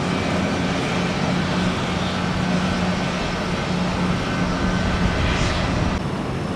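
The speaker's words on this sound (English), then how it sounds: "Non-stop 757s this afternoon." A Boeing 757 airliner passes at Tampa airport as a steady, broad jet roar that holds at moderate loudness without a break for several seconds.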